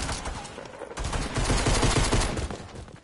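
Rapid pistol gunfire in Fortnite, a dense run of close, loud shots packed tightly together with a brief dip before the firing intensifies and continues steadily to the end.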